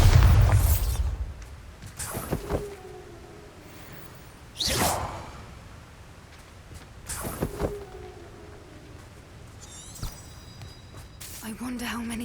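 Bombarda blast spells in the video game Hogwarts Legacy: four whooshing bursts, each ending in a booming explosion, spaced a few seconds apart, with quieter magical effects between them.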